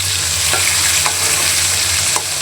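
Large fish pieces fry in hot oil with a loud, constant close sizzle and a few brief spits and crackles, without any talk.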